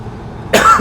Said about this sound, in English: Sorry for that cough in there.